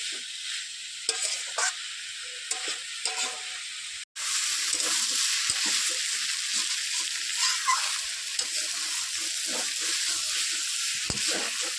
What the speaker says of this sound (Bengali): ভালো করে নেড়ে চেড়ে আমি ভেজে নেবো